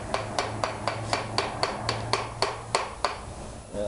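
A piston assembly is tapped into place with a series of about a dozen quick, evenly spaced metallic taps, close and clear, with no speech.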